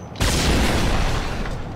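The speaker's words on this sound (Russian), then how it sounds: "Баллоны, взрывайтесь." Gas cylinders blowing up in the shooter video game Max Payne, a single loud booming blast with a dense crackling rumble that fills the short moment and tails off.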